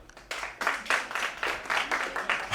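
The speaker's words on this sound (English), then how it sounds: "Clap if you know you mean." Audience clapping in bursts at a stand-up comedy show, several short waves of applause from a crowd in the room, moderately loud with some voices mixed in.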